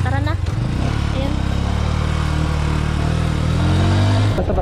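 A motorcycle rumbles close by as riders set off, a steady loud engine drone that rises in pitch as it accelerates, with voices talking over it.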